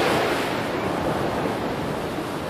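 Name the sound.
ocean waves on the beach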